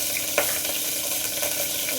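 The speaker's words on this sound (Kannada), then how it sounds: "ಇದನ್ನು ಒಗ್ಗರಣೆ ಮಾಡ್ಕೊಂಡಿದ್ದೀನಿ." Spices such as cardamom, kasuri methi, cinnamon and cloves crackling in hot oil for a tempering, giving a steady close sizzle with a few faint pops and no talk.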